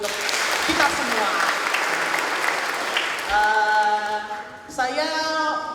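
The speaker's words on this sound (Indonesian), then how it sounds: "Beri tepuk tangan lagi untuk kita semua." A church women's fellowship audience at a Christmas gathering in Purbalingga claps for several seconds, the applause fading as music with sustained tones begins underneath.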